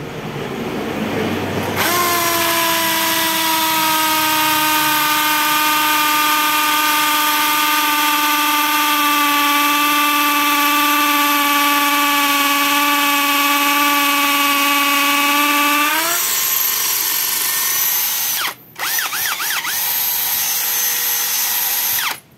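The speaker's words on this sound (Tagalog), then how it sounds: "yun nga yung test ko dito sa 13mm na cordless drill" A 13 mm cordless drill in hammer mode runs steadily at a constant high whine for about fifteen seconds, then winds down, with a brief clatter near the end; no talking.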